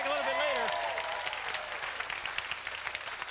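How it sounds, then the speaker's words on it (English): An audience at a live show breaks into applause, a broad crowd of clapping that swells at first and then thins out. A voice is heard at the start, and scattered individual claps stand out near the end. "Round of applause for that man."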